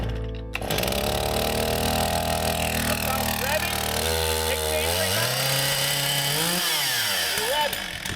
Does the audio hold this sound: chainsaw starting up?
yes